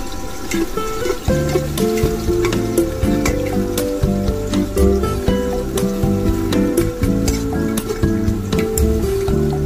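Chopped onions sizzle steadily in hot oil in a pan for khichdi, cooked inside a truck during the rainy season, with a loud continuous crackle and occasional stirring scrapes.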